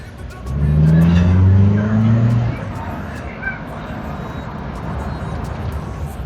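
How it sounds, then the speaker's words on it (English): A car engine accelerates with a rising drone, then settles into steady road and wind noise as the vehicle cruises along. "let's feel how it feels when you drive it on the highway"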